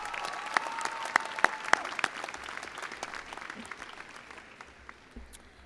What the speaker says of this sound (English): Graduates, let's give your parents a big round of applause at this time